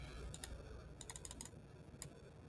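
Quick bursts of keyboard typing, a handful of sharp clicks in short clusters, close and fairly quiet.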